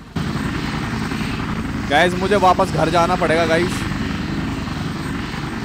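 A helicopter in Minecraft gameplay produces a loud, continuous rotor and engine drone throughout. Someone speaks briefly over it partway through.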